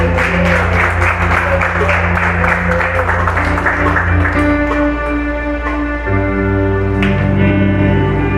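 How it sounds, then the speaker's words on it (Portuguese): Congregation applauding in church at a Sunday service, a loud, sustained wash of clapping over sustained organ or keyboard tones that thins toward the end. "Aplauda o Senhor, amém?"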